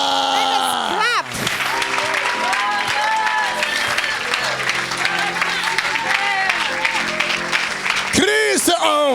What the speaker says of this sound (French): Acclame. Clap.